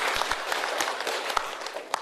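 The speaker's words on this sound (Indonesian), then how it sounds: "Tepuk tangan juga boleh lah untuk penghargaan yang diraih." Audience applause at a regency head's official reception for a health ministry director-general's working visit in Pasaman, a moderate, steady wash of clapping with sharper individual claps poking through, lasting about two seconds with no talk.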